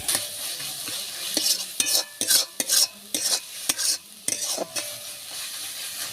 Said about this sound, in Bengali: আদা রসুনটা এবার ভালো করে নাড়াচাড়া করে নেব, যাতে গন্ধটা না থাকে, কাঁচা গন্ধ